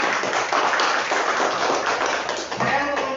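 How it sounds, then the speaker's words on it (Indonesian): Applause from students in a classroom, a sustained dense wash of clapping that holds steady for several seconds at close range. "tepuk tangan untuk kalian semua."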